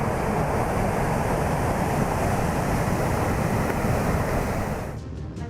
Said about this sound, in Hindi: भारी बारिश के बाद डैम हुए ओवरफ्लो।